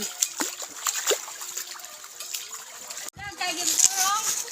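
Cold flowing water splashes and trickles as someone wades through it along a long walking trail, close and continuous, with a brief louder splash near the end.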